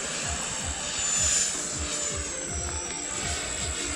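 A model F-16 jet on a 24-volt setup takes off and climbs, its engine making a steady, loud, whining roar that swells slightly midway, with no talking.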